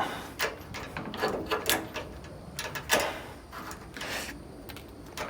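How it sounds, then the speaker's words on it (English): Heavy-duty vice grips clamp onto and work at the steering wheel of a classic 57-year-old Volkswagen bus, giving a series of close metallic clicks, scrapes and ratcheting knocks spread unevenly over a few seconds. "Let me get some vice grips on there"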